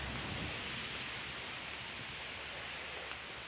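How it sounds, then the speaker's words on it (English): Heavy rain pours steadily during a thunderstorm in Newfoundland, a dense, even hiss with no breaks. "And that's rain you're seeing. Lots of rain."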